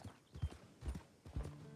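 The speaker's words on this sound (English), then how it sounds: "Oh, I was just out on the town riding my horse." Horse hooves clip-clopping during a ride in a cowboy video game, a few quick uneven hoof strikes in a loose rhythm, moderately close and fairly quiet.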